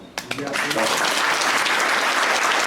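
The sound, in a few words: applause at a concert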